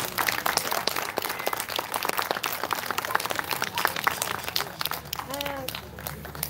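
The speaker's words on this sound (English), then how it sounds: "Can we give another round of applause for the blessing again" Audience applause at an outdoor rally against police violence in San Diego, a dense, steady patter of many hands clapping at moderate distance, with cheering and a voice rising briefly near the end.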